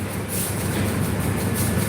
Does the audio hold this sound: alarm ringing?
no